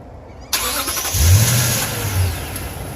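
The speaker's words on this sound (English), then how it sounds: "The remote start on this truck requires you to press and hold the lock button." A 2017 Toyota Tundra CrewMax 1794 Edition pickup starts by remote start: a sharp crank at once, then the engine catches and revs briefly before settling into a steady idle, close and loud.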